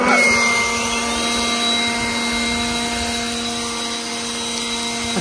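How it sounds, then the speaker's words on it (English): Two 150 MPH electric leaf blowers run together outdoors, a loud steady roaring whoosh with layered high-pitched motor whines, continuous and close throughout without speech. "We're gonna try to like go at the same spot, but you know, with two different blowers."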